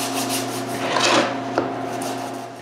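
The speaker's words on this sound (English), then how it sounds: "When they are, I sand all the raised panels' profiles." Raised wooden panel profiles are hand-sanded in a woodworking shop, giving a close, continuous scratchy rubbing with a brief sharper scrape near the end, alone without any talk.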